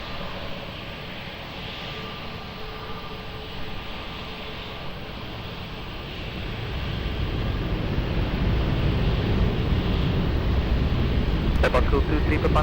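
A plane takes off from runway 20 at Lisbon Airport. A broad, distant engine roar grows steadily louder over several seconds under constant background noise.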